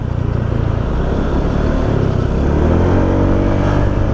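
A 2020 Honda motorcycle on a test ride accelerates with a loud, close engine drone that rises steadily in pitch, mixed with wind rush and no speech.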